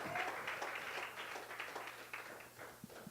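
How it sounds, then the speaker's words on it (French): A church congregation claps for the Lord during a bilingual English-French worship service, a dense sustained patter of many hands filling the room for a few seconds. "Let's give the Lord another clap"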